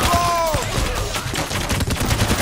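Rapid pistol fire in the heist shooter Payday: The Heist, a dense, continuous stream of loud cracking shots amid chaotic combat noise, with a brief rising tone at the start.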